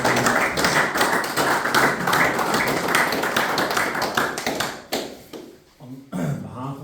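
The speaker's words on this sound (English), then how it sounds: "Round of applause." A hall audience claps steadily for about five seconds at a talk on old Orange ballads, dense and fairly close, before the applause thins out into scattered claps and small bumps.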